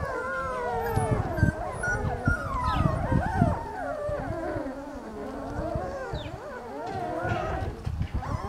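A litter of eleven puppies at a kennel whimpers and howls together outdoors, overlapping high, wavering cries, some close and loud, that swell and fade throughout.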